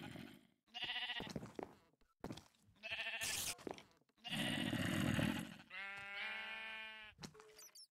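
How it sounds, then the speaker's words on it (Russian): Rams bleating close by, several loud, drawn-out bleats in a row with short pauses between, the last call wavering and strongly tonal. "Там у нас бараны."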